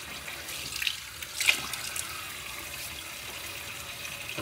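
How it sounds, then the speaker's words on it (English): Tap water runs steadily into a bathroom sink while a face is wetted for shaving, a soft continuous hiss with a brief splash near the middle, close by and alone. "Let me get my face wet."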